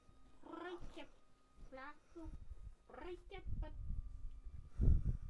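A person imitates a cat with a run of short, wavering meow-like cries and a purring rumble near the end, close and fairly quiet with no other sounds.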